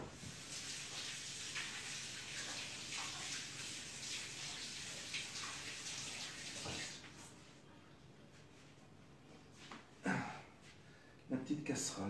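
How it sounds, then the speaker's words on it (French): Water running from a tap as hands are washed, a steady splashing that stops midway, followed by a few quiet handling noises. "que j'aille me laver les mains"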